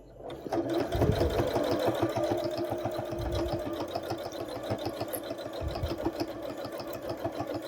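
Sewing machine stitching a holiday mug rug, running in a steady, continuous rapid needle rhythm up close, with a slight pause and slowing partway before it carries on evenly to the end.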